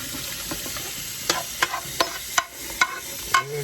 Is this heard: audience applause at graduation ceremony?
no